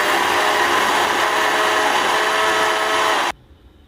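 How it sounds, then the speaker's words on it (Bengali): Puffed rice is ground to a fine powder in an electric kitchen grinder, a loud steady whirring roar that runs for about three seconds and then cuts off abruptly into near silence. "আমি এখন গুঁড়ো করে নেব মুড়িগুলো, ভালো করে গুঁড়ো করে নিতে হবে মুড়িগুলো"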